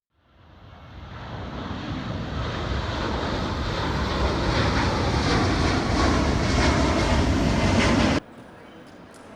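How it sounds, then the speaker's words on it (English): Steady, rising roar of aircraft engines at an airport, swelling from quiet to a loud, sustained broadband rumble for about eight seconds before cutting abruptly to a faint background hum. "Simon is at the airport waiting for Cass"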